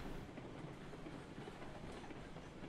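A train running in Railroads Online, a dense, continuous rumble with clickety-clack wheel noise, steady and loud with no voices.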